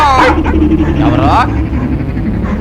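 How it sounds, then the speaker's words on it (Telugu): Dogs in a Telugu film scene bark and yelp in a loud, close, overlapping clamour. Rumbling background noise runs underneath throughout. "ఇటు కుక్కలు ఒకదానికోటి పోటీ పడి అరుస్తున్నాయి"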